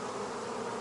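Honey bees buzz steadily and densely at an open hive while frames of capped honey are pulled for extraction, a close, continuous drone with no voices.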